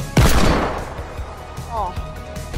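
A video game shooter battle: a loud, close gunshot bursts out at the start, followed by fainter scattered shots and game sounds as players talk over them.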